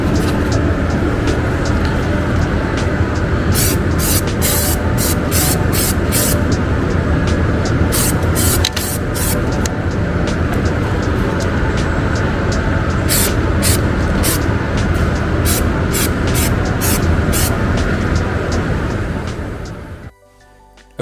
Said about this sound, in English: A quick coating of Stone Guard just to sort of protect the paint a bit more than it would have been without